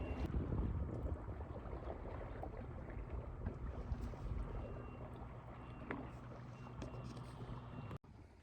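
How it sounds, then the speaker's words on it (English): Gusty wind at a mountain lake marina buffets the microphone with low rumbling noise, strongest at first and easing slightly, ending with a brief click. "the winds pick up, of course."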